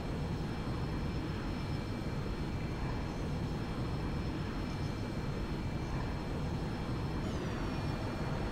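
Steady loud jet engine roar at an airport apron beside a Qantas Boeing 737-800 awaiting a pushback tow, continuous and unchanging with a faint rising whine near the end.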